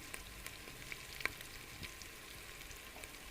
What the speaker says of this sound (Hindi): इसकी भी 1 मिनट तक भुनाई करेंगे